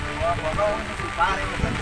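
Rain falling outdoors during a fishing trip with a cast net, a dense, constant patter with some wind, with someone talking over it.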